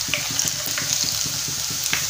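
Potatoes fry in oil in a pan on a home stove for a brief stretch, giving a steady crackling sizzle with small repeated stirring or scraping taps throughout.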